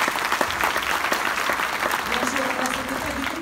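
Steady applause from an indoor conference audience, sustained clapping throughout at moderate loudness.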